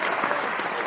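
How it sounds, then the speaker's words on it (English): Applause from a live audience cheering a guest on a talk show, steady dense clapping throughout, alone with no talk. "clap for Afia, clap for Afia, clap for Afia"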